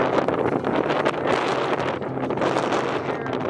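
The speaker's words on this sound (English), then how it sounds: "it's super windy" Strong wind at Pointe du Hoc, France buffets the microphone in a steady, loud roar, gusting continuously throughout with no talking.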